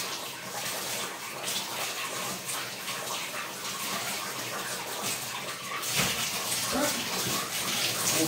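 Bathroom tap running steadily while something is rinsed under the stream, a constant close gush of water that shifts slightly midway with a brief splash.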